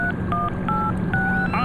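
A run of telephone keypad tones in GTA V as a phone number is dialed: several short dual-tone beeps in an uneven rhythm, close and clear over a low background hum, with no talking.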